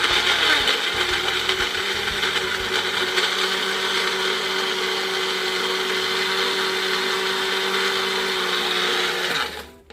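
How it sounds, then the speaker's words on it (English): A kitchen blender whirs steadily while mixing an Oreo milkshake, a loud, constant motor drone with a grinding edge that runs for about ten seconds, then cuts off abruptly. "I'm going to blend."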